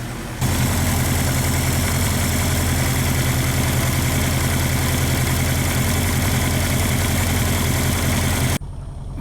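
A Suzuki air-cooled 16-valve four-cylinder motorcycle engine idles steadily below 1500 rpm, a loud, even, low-pitched rumble that starts abruptly and holds constant before cutting off near the end.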